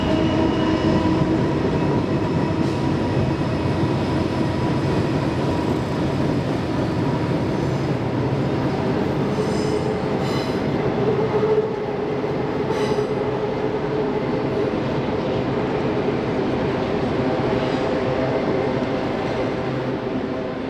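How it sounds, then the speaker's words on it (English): A long freight train rumbles across the Pope Lick trestle steadily and loudly for the whole stretch, with brief metallic squeals and clicks riding over the continuous low roar. "there's already been 4 trains go past"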